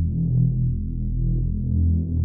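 Synth bass preset played through the Storch filter plugin, a deep, fat, sustained low drone with a slow pulsing throb, loud and steady with nothing else over it.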